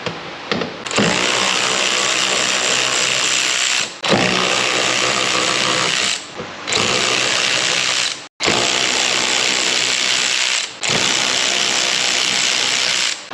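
Fender liner bolts being loosened on a Nissan 370Z with a power ratchet or impact tool: several long, loud, buzzing mechanical whirrs separated by short pauses, close to the microphone.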